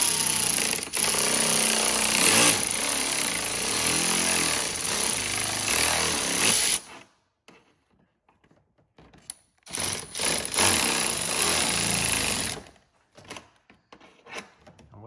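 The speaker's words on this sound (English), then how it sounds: "Screwing those in, use a little nut on it." A power tool drives fasteners while an intercooler is installed on a BMW 435, loud continuous buzzing for several seconds, then a pause with faint handling clicks before another long burst of running.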